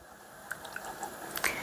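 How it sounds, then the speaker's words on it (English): Tomato cream sauce simmers lightly in a pan, giving a quiet low hiss broken by a few soft, scattered bubble pops and small plopping blips, close and alone. "Now see, it's just a light simmering bubble right now."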